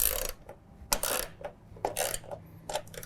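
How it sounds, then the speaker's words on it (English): Ratchet with a 13mm socket tightening nuts on a 42-inch Accel Deep mower deck gives short bursts of sharp metallic clicking. Five or six quick strokes come close up and irregularly spaced, with brief quiet gaps between them. "now we can take our ratchet and 13mm socket, go ahead and tighten these up"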